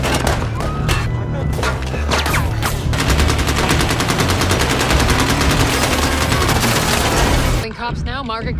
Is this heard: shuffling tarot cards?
no